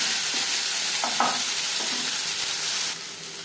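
Ginger and green chilli paste fries with cumin seeds in refined oil while being stirred in a pan, a loud, steady, close sizzle with faint scraping strokes and no speech.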